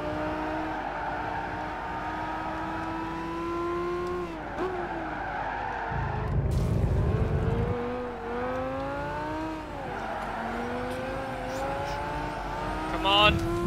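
Ferrari Enzo racing in the video game Gran Turismo 5, a steady high engine whine rising and falling through gear changes with tyre skids, continuous and loud, while someone talks over it.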